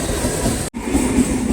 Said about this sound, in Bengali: পিছনে আবার আর একটা ট্রেন চলে আসছে